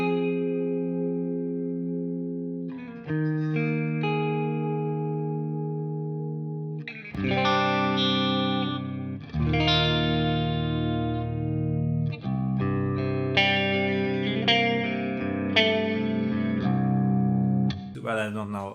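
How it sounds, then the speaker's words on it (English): A clean electric guitar tone through a NUX amp modeler plays a melodic phrase of picked single notes and chords with light shimmer and ambience, close and steady, no voice over it. "I do believe that this unit has great clean sounds"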